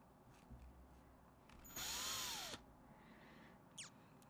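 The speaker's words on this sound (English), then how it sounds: "And now I got to drill, guys." A power drill whirs in one short burst of under a second, fairly loud against a quiet background, with nothing else nearby.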